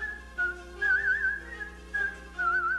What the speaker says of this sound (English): He's whistling from Mozart's Turkish Rondo